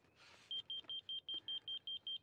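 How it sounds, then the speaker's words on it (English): Laser level rod receiver on a dual-sided grade rod beeping slowly, nine evenly spaced short high tones standing out clearly over a faint background hiss. "Beep slow because I'm low."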